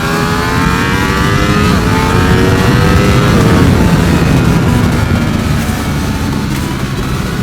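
A 2018 Ducati Panigale V4S motorcycle accelerating hard, a loud continuous engine roar rising in pitch through the revs, close and alone without talk.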